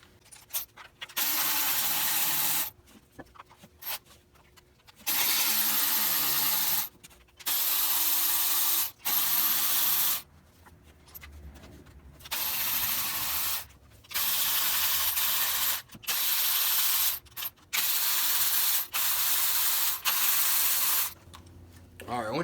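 A ratchet works loose the valve cover bolts on a Ford Explorer 3.5 engine, with repeated bursts of rapid clicking lasting a second or two each, separated by short pauses, close and fairly loud.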